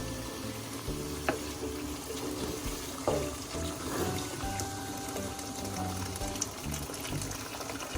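Boiled water from a kettle pours steadily into a pot of browned meat for haleem, a continuous close splashing gush with faint sizzling underneath.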